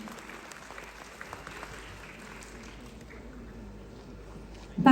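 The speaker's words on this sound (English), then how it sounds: "They all will need the loudest round of applause to keep themselves going." Faint, distant audience applause for climate protectors at an awards ceremony, a thin patter of claps running low before a sudden loud burst at the very end.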